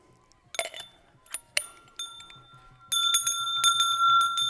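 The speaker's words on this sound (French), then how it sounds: "Cloche numéro 1 avec le dessus de l'extincteur. Cloche numéro 2 avec le fond." Two homemade bells cut from the top and bottom of a fire extinguisher ring out in turn, a few separate metallic strikes early on, then a denser run of bright clanging hits with sustained ringing tones.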